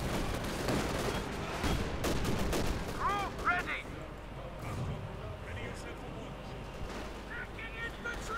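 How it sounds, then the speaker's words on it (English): Sniper rifle shots crack in a Company of Heroes 2 battle, with several sharp reports and distant battlefield rumble in the first seconds and sparse gunfire after that, all under continuous commentary. "Sniper fire continues"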